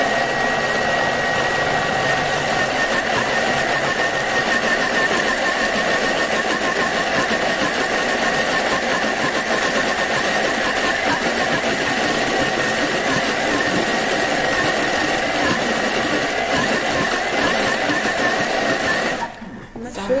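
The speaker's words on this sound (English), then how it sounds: "So we'll blend this one, speed 6 again." A blender whirs at a steady speed through leeks and herbs for a vegetable stock, a constant close motor drone lasting about twenty seconds before cutting off at the end.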